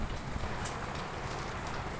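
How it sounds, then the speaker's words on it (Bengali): Heavy rain from Cyclone Remal pours steadily in Dhaka, a dense, continuous wash of drops drumming on surfaces, close and fairly loud. "ঘূর্ণিঝড় রেমালের প্রভাবে ঢাকায় অনেক বৃষ্টি হচ্ছে প্রচুর প্রচুর পরিমাণে বৃষ্টি হচ্ছে"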